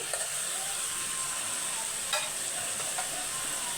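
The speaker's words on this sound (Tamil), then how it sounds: "சாதம் பொங்கி வருது சிம்மு வச் சிம்மில் வச்சு" Rice boiling in a pot on a low simmer bubbles and hisses continuously, a soft steady simmer with faint clinks, close and without talk.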